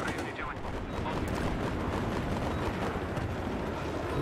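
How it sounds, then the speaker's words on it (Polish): Continuous dense gunfire and rumbling battle noise fill a Battlefield 3 multiplayer match on the Back to Karkand maps, loud and close throughout, with player voices faintly mixed in. "Który to strzela do mnie?"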